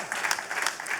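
Clapping from an audience at a poetry recital during a college kavi sammelan, a brief, dense patter of many hands lasting about a second at moderate loudness.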